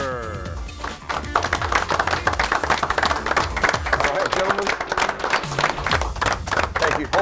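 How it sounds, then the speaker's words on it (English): Studio audience applause for a game show host's entrance: a dense, lively burst of clapping that swells after a brief dip, staying loud and sustained throughout, with scattered cheers mixed in. "Hold your applause."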